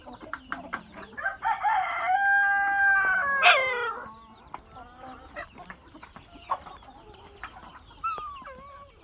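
Country hens feeding on a tray of hydroponic green fodder cluck busily and close up, with a drawn-out crowing call in the middle and scattered pecking clucks afterwards.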